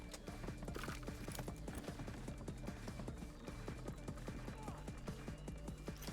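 A horse gallops in the Redfall video game, a steady, fast, rhythmic clatter of hooves that runs loud and continuous throughout.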